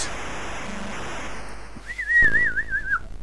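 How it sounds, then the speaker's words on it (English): In the Intellivision Bowling video game, a bright electronic whistle warbles up and down for about a second, loud and clear, after a stretch of soft noise and a short low tone. "There's the whistle again."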